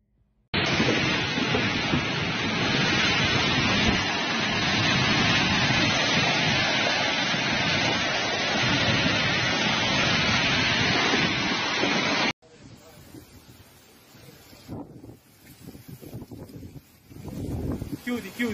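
A severe hailstorm in Sicily pounds down as a loud, dense, unbroken roar of hail and rain for about twelve seconds, then cuts to a quieter, gusty stretch of rain and wind.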